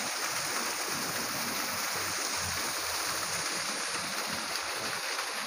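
Water flowing in a stream in Hong Kong Park, a constant soft rushing and gurgling wash heard close by and steady throughout.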